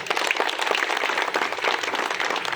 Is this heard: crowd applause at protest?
yes